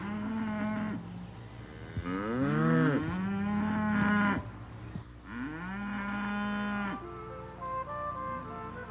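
Dairy cows mooing on a farm in several long, deep, drawn-out calls, one after another, close and loud, with no talk over them.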